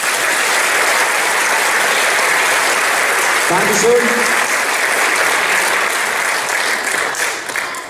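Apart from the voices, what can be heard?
audience applause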